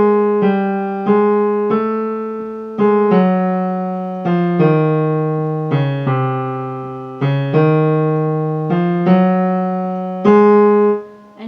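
Solo piano plays a melodic line from Khachaturian's Waltz from Adventures of Ivan, a dozen or so clear sustained notes in a lilting, slightly off-beat rhythm, close and alone.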